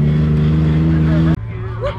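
An off-road buggy engine idling loudly and close at the event, a steady low rumble that cuts off sharply and drops to a quieter drone, with a voice over it.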